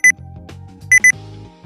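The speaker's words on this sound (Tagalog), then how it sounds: "Nag-beep na." Sharp electronic timer beeps ring out over a low melodic background: one short tone near the start, then a quick pair of loud beeps close together a second later, clear and near.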